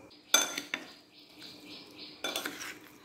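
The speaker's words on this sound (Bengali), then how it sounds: "তো তেল দিয়ে এগুলো আমি ভালো করে মিক্সড করে নেব" Chicken being mixed with turmeric, spices and oil in a bowl, giving a few sharp clinks and scrapes of utensil against the dish with softer stirring between, close and fairly quiet.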